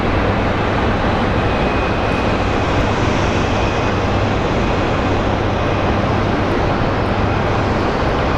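SkyWest Embraer regional jet being pushed back at Phoenix Sky Harbor airport, a steady broadband engine roar with a low idling hum holding constant throughout, fairly loud and unbroken.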